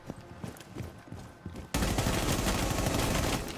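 Gunfire from the video game Rainbow Six Siege begins as scattered thuds and then switches to a loud, dense, continuous stream of rapid shots for the second half.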